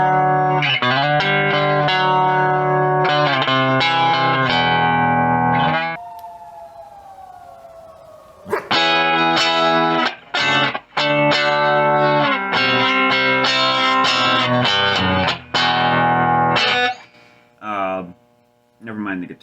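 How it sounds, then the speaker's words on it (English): Clean electric guitar chords and notes through the reverb channel of a 1967 Gibson GA-20 RVT amp, strummed and picked in phrases, trebly, with a sustained sliding tone fading in a pause midway. "The reverb channel, the one that everyone's going to use anyway."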